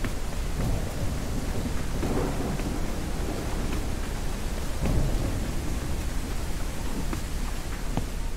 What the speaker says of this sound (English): It's just thunder, lightning